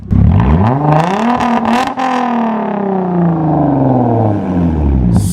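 A loud car engine revs up and holds a high, roaring pitch, then eases slightly while staying loud throughout, with no talking.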